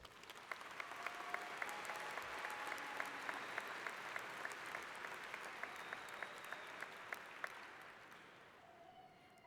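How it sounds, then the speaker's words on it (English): Graduation ceremony audience in a large hall gives a sustained round of applause, an even, distant wash of many hands clapping that holds steady for several seconds before tapering near the end. "Please give them another round of applause."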